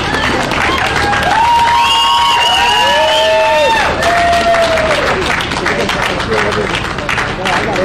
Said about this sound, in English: The crowd wasn't very large, but they're appreciative.